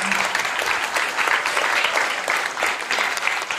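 Audience applause at the Miss Twang & Twist rockabilly pageant in Nastola, a lively crowd clapping steadily and fairly loud, with a few louder bursts.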